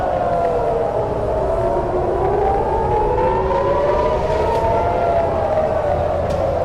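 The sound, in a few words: air raid siren wailing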